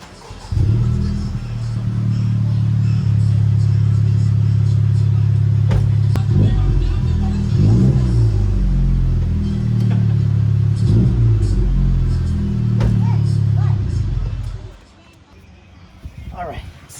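A Ghost Pearl FK8 Honda Civic Type R starts up and idles loudly with a steady low rumble close by, a few brief revs rising above it, while people talk over the engine before it cuts off near the end.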